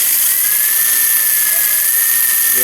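A small RC drift car's electric motor, with the speed controller's boost engaged, whines loudly and steadily at high pitch, a constant buzzing drone close up with no change in speed.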